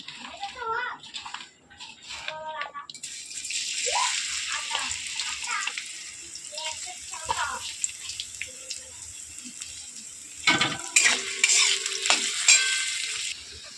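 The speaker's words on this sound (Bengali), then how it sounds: "পেঁয়াজটা ভাজা ভাজা হয়ে এসছে" Onions fry in oil with bay leaves in a pan, sizzling steadily while a utensil stirs and scrapes at intervals. A person talks over the cooking.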